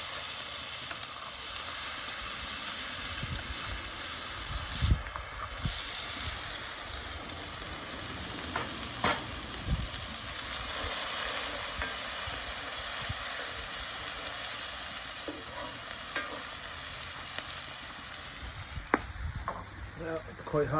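Onion, garlic and chilli sizzle steadily in hot oil in a pan over a fire pit, a continuous frying hiss with faint crackles and occasional stirring knocks, close and even throughout.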